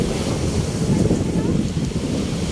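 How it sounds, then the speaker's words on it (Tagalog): Sea waves at a provincial beach in Bato, South Cebu, a constant close roar of surf mixed with heavy wind buffeting the microphone, with no clear breaks or distinct crashes. "Ang sarap ng dagat."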